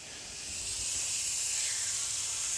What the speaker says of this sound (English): So that's searing quite nicely.